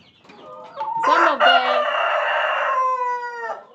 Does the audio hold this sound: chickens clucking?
yes